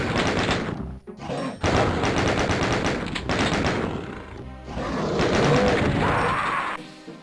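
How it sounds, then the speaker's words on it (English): Loud, rapid gunfire from the retro shooter DOOM II rattles in dense bursts with crashing impacts, broken by a short pause near the start and a fade at the end. "And this is literally you go in, you shoot."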